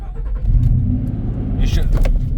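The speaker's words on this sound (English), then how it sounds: "if I turn the car on" A car engine running at a steady low idle, its deep rumble continuous throughout and close by, with a few brief higher clatters toward the end.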